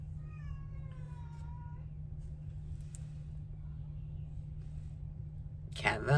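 A cat gives a single drawn-out meow at the start over a steady low hum, then quiet continues until a loud burst at the end.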